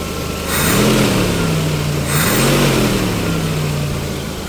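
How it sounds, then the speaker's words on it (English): A Jeep engine after a fuel and ignition refresh, idling slightly high at operating temperature, a close, loud, steady rumble with two brief blips of revving. "Maybe idling just a smidge high, but sounds pretty good."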